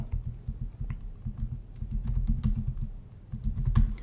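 Computer keyboard typing, with quick, irregular bursts of key clicks heard close up, pausing briefly before another flurry of strokes.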